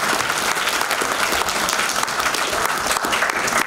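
An audience at the official opening of the FILM BUN festival in Moinești, Romania, gives steady, full applause. Many hands clap densely and evenly throughout, close and loud, with no speech over it.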